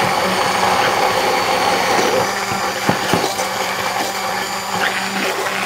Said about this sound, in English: So this is your immersion blender if you have one.